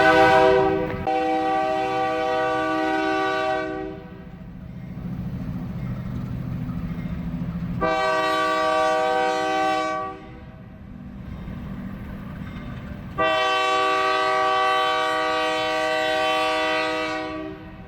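Loud freight train rumbling past near a store parking lot, its horn blasting three long, sustained tones separated by gaps of heavy rolling wheel noise.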